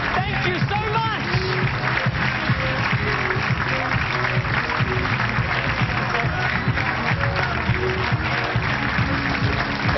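A packed arena crowd at the 2009 Long Island Classic bowling tournament claps and cheers for the winner, a loud continuous wall of applause lasting throughout, with voices mixed into the roar.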